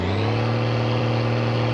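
A truck engine in the video game My Summer Car revving loudly and steadily, a strong continuous low drone held close and unbroken with no talk.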